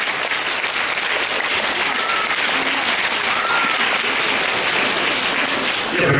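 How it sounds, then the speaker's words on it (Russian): Steady applause fills a ballroom for participants at an International Latin dance competition, a dense, continuous wash of clapping from a large crowd that stays level for several seconds before easing slightly at the end. "аплодисменты участникам"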